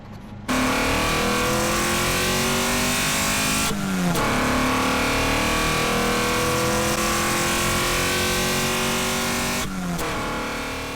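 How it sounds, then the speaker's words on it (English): Acura Integra engine on a night drive, a loud, close drone that climbs steadily in pitch through the gears, with two sharp shift breaks where the revs drop before building again. "personally I like doing engine clips"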